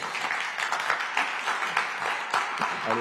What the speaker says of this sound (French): Applaudissements des collègues.